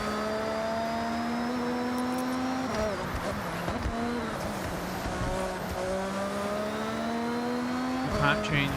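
A car in Forza Horizon 6 accelerates with a steady rising engine whine that climbs through several gear shifts, each marked by a brief dip before the pitch rises again, with tire noise and a voice talking over it.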